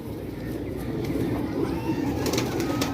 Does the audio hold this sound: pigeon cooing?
yes